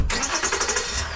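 A 100 cc Adly scooter engine cranks and sputters to life close by, with a rough, uneven mid-pitched rumble over its brief run.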